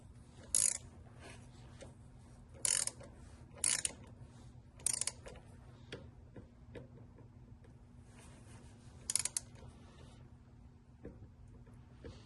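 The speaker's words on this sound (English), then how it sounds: "So I got to turn this a little bit so I don't touch the positive as I'm tightening it." Aluminum battery terminals are tightened on a 2003 Chevy Trailblazer with a ratchet, giving bursts of sharp, close clicking repeated at irregular intervals over a quiet steady background hum.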